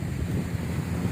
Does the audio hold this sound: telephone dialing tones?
no